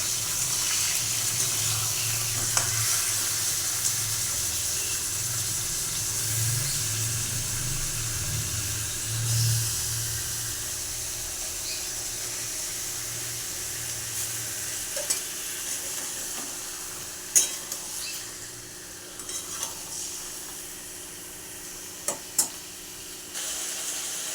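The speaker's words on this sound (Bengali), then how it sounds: "চিকেন আমার হালকা ভাজা হয়েছে" Chicken frying in a pan, a long steady sizzle with spatula scrapes and stirring, plus several sharp clacks toward the end; no talking.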